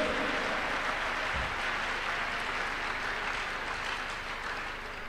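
Congregation clapping hands during a Tuesday miracle church service, a continuous roomy wash of many hands at steady volume, tapering slightly near the end.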